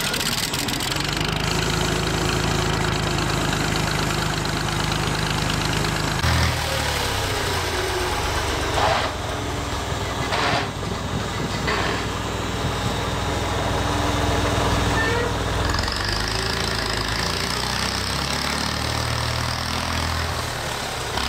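A late-1960s or early-1970s gas Massey Ferguson tractor runs at a steady idle, its loud, close engine chugging evenly throughout with a few clanks and shifts in tone, and no voices.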